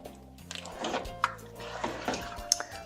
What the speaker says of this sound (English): Stir that in.